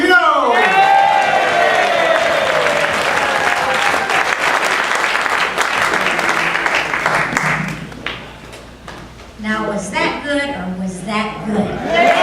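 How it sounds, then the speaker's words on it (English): Warm audience applause with a few whoops for a past president, a full, loud wash of clapping lasting about eight seconds before fading as someone starts speaking over it. "Give a warm round of applause for past President Connie Palladino."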